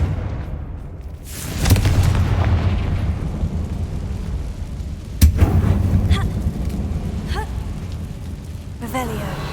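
A Confringo spell blast in Hogwarts Legacy, cast inside a closed-off mine tomb: a booming burst near two seconds and another sharp hit past five, followed by scattered crackling debris and game ambience.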